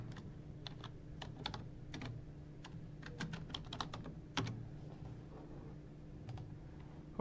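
Someone types a login password on a computer keyboard, tapping out irregular clusters of crisp keystrokes close up over a low room hum, with no talking.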